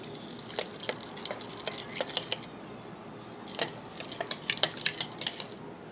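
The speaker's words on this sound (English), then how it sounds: "Next you want to give each jar a quick stir to get rid of the air bubbles." A utensil stirs glass canning jars of beans in hot water, producing quick bursts of bright clinks and taps against the glass with short pauses between jars, close and clear.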